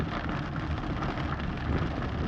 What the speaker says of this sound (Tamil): பாருங்கள் எப்படி மழை பெஞ்சிட்ருக்குன்னு